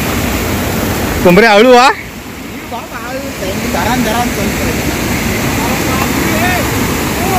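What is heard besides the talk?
roaring Saitwade waterfall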